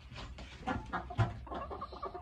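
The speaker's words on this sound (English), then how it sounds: "Shelby, he's a male rooster." A rooster clucks and mutters in short bursts, fairly close, at a petting zoo pen, with farmyard background noise and no talking.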